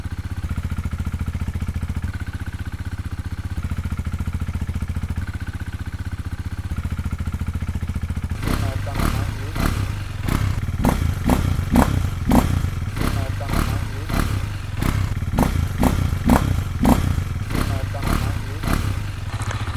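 KTM Duke 390 single-cylinder motorcycle engine idling steadily, then revved in a rapid series of sharp throttle blips with popping exhaust, close and loud, with a person speaking over it.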